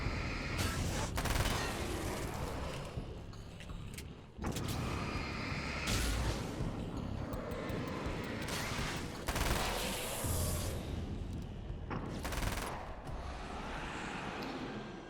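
Rapid bursts of gunfire from a 30-round weapon in the video game Alan Wake's American Nightmare, loud repeated volleys with brief pauses between them amid game action noise.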